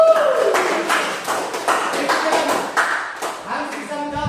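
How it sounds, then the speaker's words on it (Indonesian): A classroom of students claps for a classmate, a cluster of sharp, fairly close hand claps in a loose steady rhythm lasting several seconds, with a brief tonal ping and a voice at the end. "kita kasih tepuk tangan dulu untuk Rani ya"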